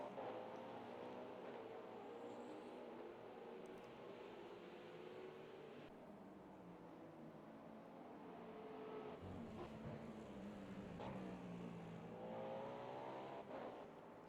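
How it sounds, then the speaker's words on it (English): Race cars in an endurance racing video game at Sebring stream past in a line, their engines droning and revving steadily, with overlapping passes rising and falling against a constant background roar. "A nice line of cars all coming through very nicely."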